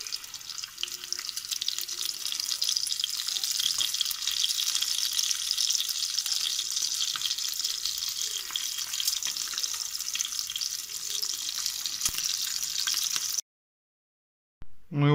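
Navaga fish frying in a pan, a steady bright sizzle and crackle running continuously without talk, ending in a brief near-silent gap.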